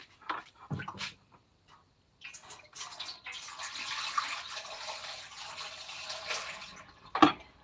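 Water from wine-making equipment drains and gurgles through an S-bend, a steady rushing splash that runs for several seconds after a few brief knocks and ends with a sharp clunk.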